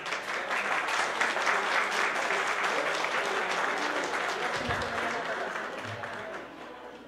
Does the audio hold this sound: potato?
no